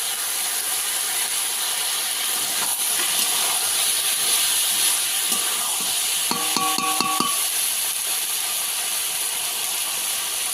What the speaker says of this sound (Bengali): এইভাবে সব কিছু ভালো করে কষিয়ে নিতে হবে।